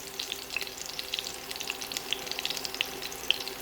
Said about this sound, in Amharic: ዘይቱ ሞቅ ይበል ትንሽ፣ ነጭ ሽንኩርቱ ጠበስ እንዲል።